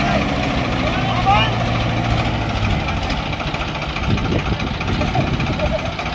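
Tractor engines, a Farmtrac 60 and a modified Mahindra DI 615, rumble steadily at a tractor pulling contest, a continuous loud drone with a spectator speaking over it.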